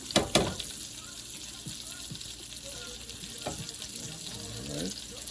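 Food frying in a pan on a medium stove, turned every so often; a soft, steady sizzle with a couple of sharp clicks near the start and occasional scrapes, and no one speaking in it.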